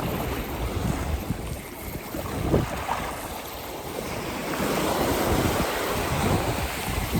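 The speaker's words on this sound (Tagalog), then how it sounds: "Lumakas na yung hangin mga masters." Strong wind blusters at sea around a small fishing boat, a continuous roar of gusts buffeting the microphone with waves and surf underneath, rising louder toward the end.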